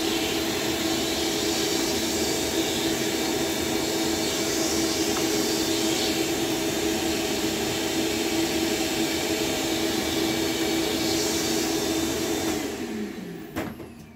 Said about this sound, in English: Give it a quick vacuum.